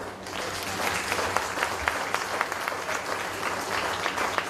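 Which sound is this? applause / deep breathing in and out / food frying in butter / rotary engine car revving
applause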